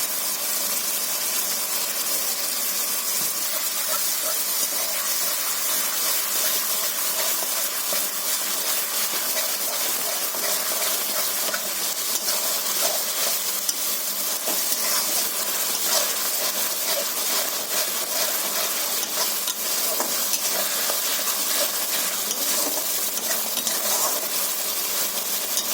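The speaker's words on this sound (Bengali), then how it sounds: "টমেটোটা এর মধ্যে অ্যাড করেছি বন্ধুরা, মশলার মধ্যে" Tomato frying in a pan with spices, a steady loud sizzle that holds for the whole stretch with faint stirring scrapes underneath and no talk.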